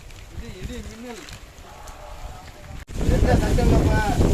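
A wind and rain storm lashes the seashore at night during a night fishing trip, with thunder and lightning about. A voice talks over quieter wind at first, then a loud, dense roar of gusts and rain bursts in and keeps going.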